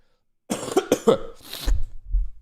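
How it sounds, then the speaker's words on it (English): A man coughs close to the mic in several quick, harsh bursts after a moment of silence, then follows with rougher, throat-clearing hacks. "this fucking cough"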